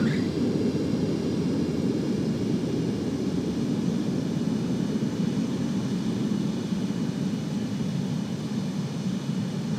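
Jet aircraft landing in Ace Combat 7, a steady, loud, broad engine roar holding constant throughout with no pauses.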